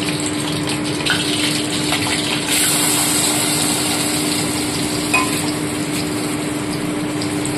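Sour, spicy and sweet mango pickle cooked in white oil in a wok, a loud, steady gushing sizzle with faint scraping from stirring running throughout, no voices.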